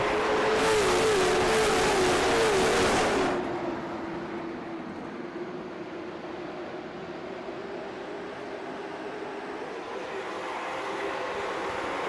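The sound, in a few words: late model stock cars racing at North Wilkesboro Speedway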